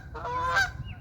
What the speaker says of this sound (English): And there's some geese being loud over there.